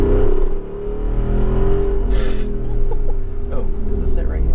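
A 2022 Jeep Wrangler 392 V-8 rumbles steadily up close with deep low harmonics, its pitch shifting as it revs, while someone talks over it.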